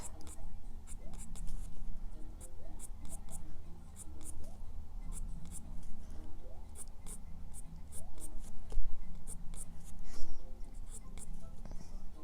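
A colored pencil scratches rapidly across paper, shading hair roots in short repeated strokes with occasional pauses as the pencil is turned, close and crisp, with no talking.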